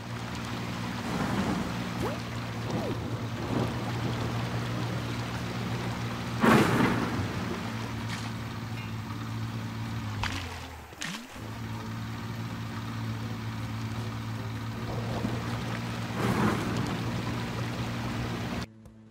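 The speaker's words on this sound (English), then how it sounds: "with the storm still raging" A video game thunderstorm: steady rain and a low rumbling storm roar, with a couple of sharp cracks of thunder breaking through partway along.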